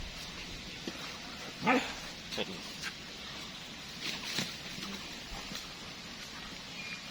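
German Shepherd puppies give a few short yips, barks and whimpers, mostly faint and scattered, while a person talks throughout.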